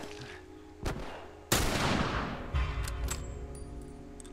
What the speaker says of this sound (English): I think this was this third shot you'll see with the gun.